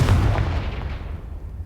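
A Confringo fire-blast spell explodes in the Hogwarts Legacy video game as a single loud, deep boom that fades out over about a second and a half.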